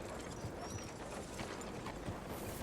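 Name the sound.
horse hooves clip-clop, from a video game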